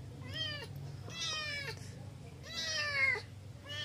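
A cat meows three times in a row, each call a drawn-out, wavering cry, close and fairly clear over a low indoor hum, with a brief gap between the calls.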